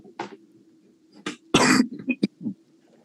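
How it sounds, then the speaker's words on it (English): A few sharp coughs, one short burst and then a longer harsh one followed by smaller hacks, close and fairly loud against a low background hum. "As he starts coughing."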